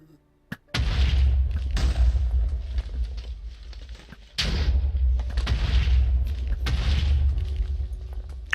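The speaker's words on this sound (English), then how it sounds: "Let's give it some explosive power as well." Heavy booming explosions from an explosive weapon in the Minecraft Sky Factory 3 modpack, two big blasts a few seconds apart with deep rumbling tails, loud and close.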